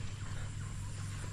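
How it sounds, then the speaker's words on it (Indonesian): Chickens on a farm by a river, with soft clucking over a constant low hum and steady background noise, brief and somewhat masked. "Ayam."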